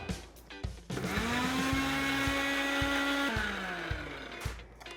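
A countertop electric grinder whirs through green chutney ingredients for a Mumbai vada pav, starting after a few clunks, holding a loud steady motor whine with a rising pitch, then spinning down near the end, with no talking.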